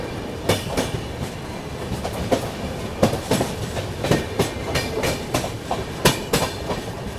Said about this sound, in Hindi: काफ़ी अच्छी ट्रेन है ये भी जर्नी करने के लिए।